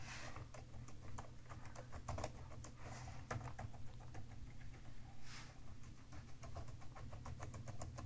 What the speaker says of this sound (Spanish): El teclado de la línea Logi.